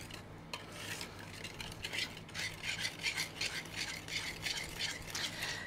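A flat whisk stirs flour into chocolate cake batter in a pitcher, giving a steady run of scraping, rasping strokes at close range with no talking.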